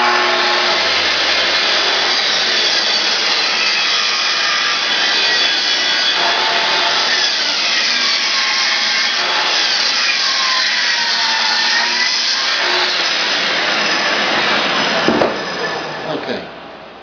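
Festool TS55 track saw cutting through a wood shelf, a loud, steady high-pitched whine with broadband rasp that holds continuously for about fifteen seconds before the blade spins down and stops.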